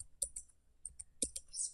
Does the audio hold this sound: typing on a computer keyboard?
yes